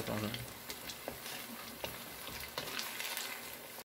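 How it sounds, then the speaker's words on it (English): Bananas fry in hot oil with brown sugar, giving a dense, steady sizzle with soft intermittent stirring scrapes, fairly faint and close. "Continue to simmer the oil and keep stirring until the bananas are fully coated in caramelized sugar"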